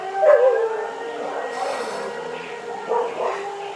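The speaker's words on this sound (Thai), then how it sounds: "มันมาอีกแล้วได้ยินเสียงหอนไหมฮะ" A dog howls near a temple in Chiang Mai, starting with a short, wavering high howl and followed by fainter, drawn-out cries over a low steady background hum.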